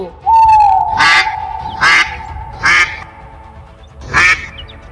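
A cartoon mother duck quacks loudly several times in separate bursts over a sustained whistling tone, with no talking.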